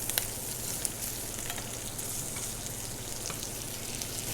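King oyster mushrooms fry in a pan in a restaurant kitchen, a steady soft sizzle with faint crackles and a low hum of kitchen noise beneath, no voices.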